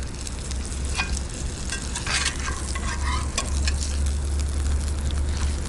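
Salmon fillets sizzle steadily on a parabolic solar cooker outdoors, a close, continuous frying hiss broken by a few scraping, stirring knocks as the pieces are turned, with no talking.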